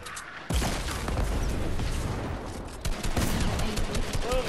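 Fortnite gunfire comes as a sudden loud barrage after a short quiet start, dense rapid shots crackling continuously with a brief dip, then resuming up close.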